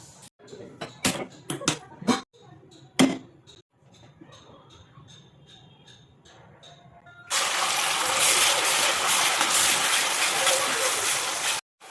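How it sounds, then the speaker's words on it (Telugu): Onion and coconut paste hits hot oil in a pan for gongura chicken, setting off a loud, steady, broadband sizzle that runs unbroken for the last few seconds, after scattered clinks and softer kitchen noise. "ఈ పేస్ట్ వేసుకొని ఒక 2 నిమిషాలు వేయించుకుందాము"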